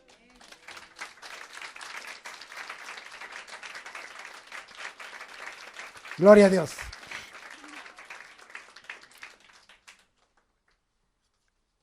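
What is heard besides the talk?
congregation applauding in church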